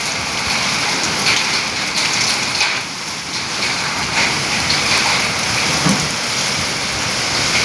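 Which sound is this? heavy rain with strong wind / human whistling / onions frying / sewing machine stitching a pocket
heavy rain with strong wind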